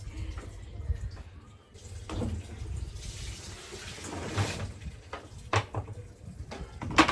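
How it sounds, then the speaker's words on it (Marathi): Water splashing and trickling from a bucket onto a tiled floor in uneven bursts, with occasional soft knocks and clatters nearby. "निरम्याचं पाणी सगळं खाली सांडतंय फरशीवरती"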